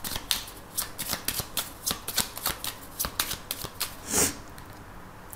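A 32-card deck is shuffled by hand for a card reading, giving a quick sequence of crisp riffles and taps close to the listener, clear and without talk.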